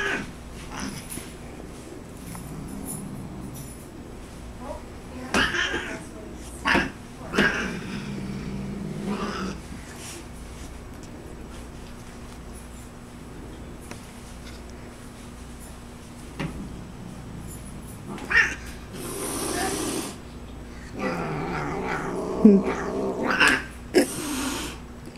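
A cat chasing its tail indoors, with scattered bursts of yowling and growling, thumps and scrambling bumps, and quieter stretches between the outbursts.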